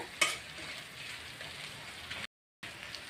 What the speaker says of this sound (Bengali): এটাকে এখন ভালো করে ভেজে নেব মশলাগুলোকে